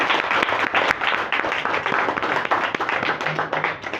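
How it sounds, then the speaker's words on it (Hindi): An audience applauds at a yoga championship event, a loud, sustained crowd of hands clapping with a rough, crackling texture that stays even throughout. "एक बार सभी जोरदार तालियों से स्वागत करेंगे"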